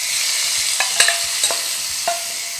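A hot tempering poured over kolan fish curry sizzles loudly and steadily up close, with a few sharp crackles and soft clinks scattered through, no speech.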